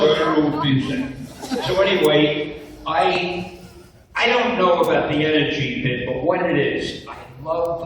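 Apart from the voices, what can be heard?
No distinct noise like a dog, phone or traffic.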